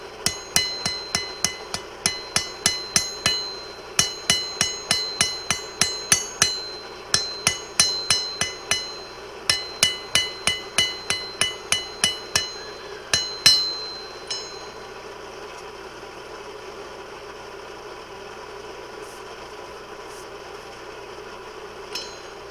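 A blacksmith forges rebar into a round tent stake on an anvil, ringing hammer blows landing in quick rhythmic bursts of several strikes with short pauses, loud and close, then stopping as a low background hum remains.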